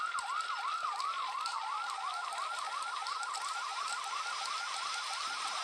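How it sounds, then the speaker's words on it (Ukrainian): A fire truck siren wails in a rapid repeating yelp, each cycle sweeping up and down in quick regular pulses, loud and continuous with no talking over it. "до нас з вами поспішає пожежна машина"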